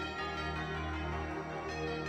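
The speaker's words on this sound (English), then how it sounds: "God, those horns, those bells." Bells peal steadily with dense sustained tones throughout, at moderate loudness with no talk over them, rung at a football broadcast on a playoff Sunday.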